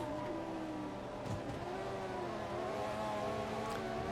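Race cars in the F1 2014 video game with a fantasy mod roar past in a steady stream, engine tones rising and falling as they go by, loud and continuous with no talk.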